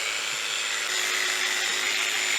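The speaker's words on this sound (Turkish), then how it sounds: "Bakın dediğim gibi makine zor çalışıyor." Electric shearing machine straining as it clips a lamb's badly soiled, mange-damaged fleece, giving a steady, dense, close-up buzzing whir that runs unbroken throughout.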